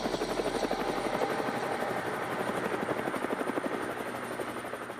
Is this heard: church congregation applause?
no